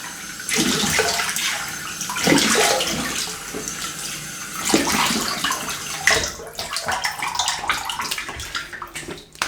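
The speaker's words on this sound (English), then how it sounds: "let me have a little rinse in this" Cold tap water runs steadily into a basin as an aluminium TGS Styletto safety razor is rinsed under it, a loud continuous splashing stream with bursts of sloshing and gurgling, close by and without talk.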